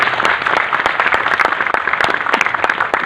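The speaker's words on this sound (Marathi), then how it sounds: "सर्वांनी स्वरूप सरांचं टाळ्या वाजवून स्वागत करावं." Audience applause in an auditorium at Pimpri's Acharya Atre Rangmandir during a Dhammachakra Pravartan festival, welcoming a speaker to the stage; dense, steady clapping from a crowd, fairly loud and continuous throughout.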